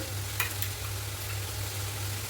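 Red chili powder and spices sizzle and fry in hot oil, a steady close hiss with a few brief stirring clatters and no talking.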